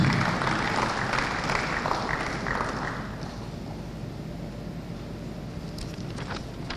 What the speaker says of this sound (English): Please can we give her a round of applause, please?